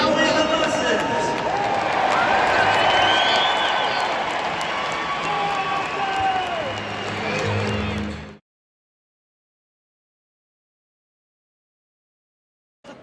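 A stadium crowd cheering and applauding Newcastle United Women at a women's football match, a dense roar with mixed shouts and clapping for about eight seconds before cutting off abruptly to silence.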